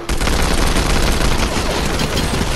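A video-game assault rifle fires from the hip in a loud, continuous rapid burst, with dense overlapping shots lasting the whole stretch and no talking.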